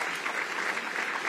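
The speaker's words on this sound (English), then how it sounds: "So please give yourselves another round of applause for that." A brief burst of audience applause at a Detroit event, steady even clapping at moderate distance and fairly quiet throughout.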